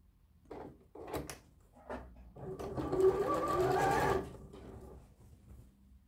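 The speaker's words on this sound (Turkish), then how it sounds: "Bakın overlock dikişini çizgiye getirerek kolumuzu dikiyoruz." An overlock sewing machine stitches a sleeve seam with a loud, close whirring run of about two seconds, preceded by a few short handling clicks and knocks.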